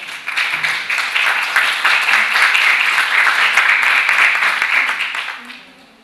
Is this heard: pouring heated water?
no